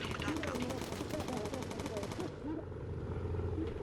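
Bomber aircraft machine guns in the video game Bomber Crew fire a rapid, steady stream of shots for about two seconds, then stop, leaving engine drone and game noise.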